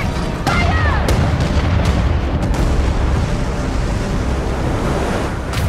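Ship cannons fire during a naval battle at sea in the Skull and Bones pirate video game, with a few sharp booms breaking through a loud, steady wash of ocean surf and wind.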